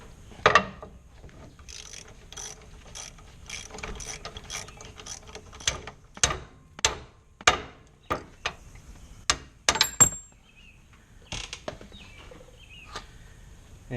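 A ratchet wrench clicks in irregular rapid bursts while a nut is backed off the Pitman arm on a first-generation Nissan Xterra steering system, close and fairly quiet with pauses between runs.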